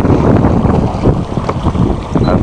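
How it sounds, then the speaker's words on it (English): A sailboat running under sail with no engine on a rolling sea, heard as steady heavy wind rushing across the microphone with a dense, continuous roar of air and water. "Nice to be out with the sails up, no engine."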